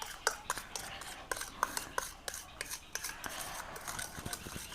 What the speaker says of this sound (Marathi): हे असं चमच्याने मिक्स केलंय मी